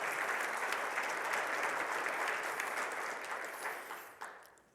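Church congregation gives a loud, dense round of applause during a sermon service, steady clapping that gradually fades away toward the end, without voices.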